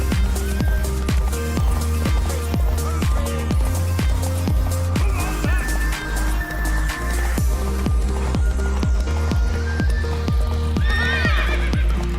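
Hooves clip-clop in a steady, quick rhythm close by in The Witcher 3 video game, with music-like tones layered over them, and a horse whinnies near the end.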